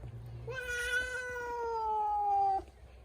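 A stray cat meows loudly and sharply while being fed, one long drawn-out wailing cry close by after a brief low background hum.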